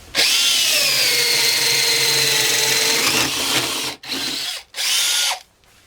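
A cordless power tool running on a replacement battery cuts into a 40 by 60 piece of pine, giving a loud, steady high whine for about four seconds, then two short bursts before it stops.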